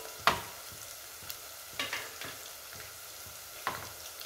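Spices and turmeric frying in a pan for a spinach and bean curry, a soft sizzle under a few sharp scraping stirs and light clicks, close but quiet with no talking.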